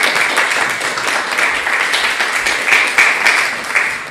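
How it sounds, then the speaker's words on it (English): Applause fills a room at an indoor community gathering, a dense, loud and continuous round of clapping that runs for about four seconds with a few rising bursts and no voices over it. "So let's give them a round of applause."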